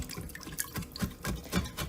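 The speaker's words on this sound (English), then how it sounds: "I am scraping at it with a wooden or bamboo with the hope that it does not scratch the bottom of the pan" A wooden or bamboo spatula scrapes browned beef-stew bits off the bottom of an Instant Pot into water, making a quiet series of wet, rhythmic scraping strokes.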